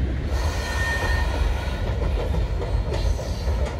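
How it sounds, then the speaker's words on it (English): A freight train crosses a bridge over a river, rumbling past with a steady heavy roar and clattering wheels, loud and close, with no voices. "here comes a freight train emerging from the trees to go across this bridge"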